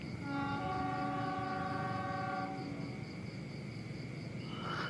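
At night, the Pasundan and Lodaya trains pass each other at speed at Cimekar station: a long two-tone horn blast sounds over a loud steady rumble of rolling cars, with insects chirping in the background.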